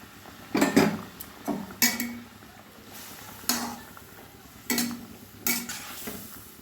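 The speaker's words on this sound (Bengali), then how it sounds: "ঝোলের সঙ্গে মাছগুলো খুব ভালোভাবে আমি মিশিয়ে দিলাম।" Fish being stirred into boiling curry gravy in a pot, with a handful of separate scraping, clinking strokes of a utensil against the pot spaced about a second apart, close and fairly quiet over a low background.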